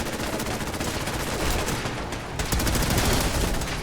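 A Fallout 4 sentry bot opens fire in a rapid, continuous burst of heavy automatic gunfire, loud and close, with a brief dip in the middle before the stream of shots resumes.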